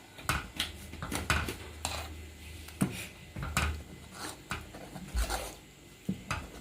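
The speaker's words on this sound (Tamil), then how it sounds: "இப்போ ஒன்று கிண்டி விட்டுக்கலாம் லைட்டாக" Moong dal payasam being stirred lightly in a pot, giving soft irregular scraping and clinking of a spoon against metal, close up with no talking.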